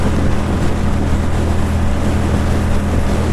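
Heard while riding a 2006 Kawasaki Vulcan 750 motorcycle, a loud, steady roar of wind and engine drone fills the sound throughout, with no speech.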